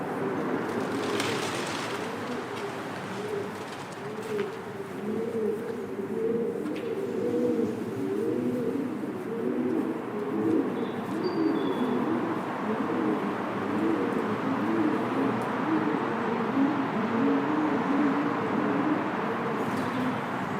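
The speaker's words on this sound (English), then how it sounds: "they're making the continuous cooing noise." Pigeons coo continuously and softly in overlapping rounds beneath the Abbey Park Road bridge in Leicester, a steady layered murmur with faint distant traffic underneath and no talk.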